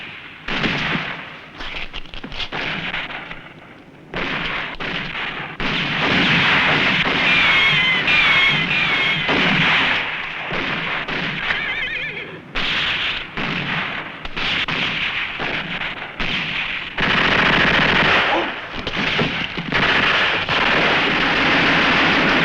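Dense, loud bursts of machine gun fire in a western film battle, rattling almost continuously in long volleys with brief gaps, harsh and close.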